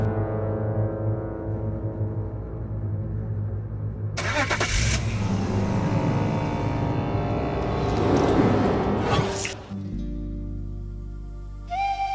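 A car in a Pakistani TV drama scene starts and drives off. A steady low engine hum swells into louder surges, with some tonal background sounds and no talking.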